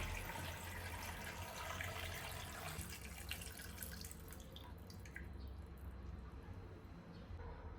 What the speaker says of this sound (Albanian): Në tenxhere shtojna 3 litra me ujë.